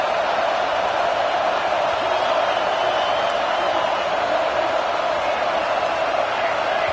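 A stadium crowd at the Georgia vs Texas A&M college football game roars as one dense, steady wall of noise, loud and sustained throughout without any letup.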